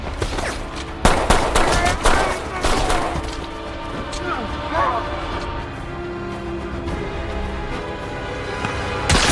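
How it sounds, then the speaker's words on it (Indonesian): Bursts of gunfire from an action film, Extraction: several loud cracks in quick succession at the start, then quieter scattered shots under a tense soundtrack and some talk. "berjuang menghadapi para tentara Amir Asif, tiba-tiba saja sebuah peluru langsung bersarang di kepalanya."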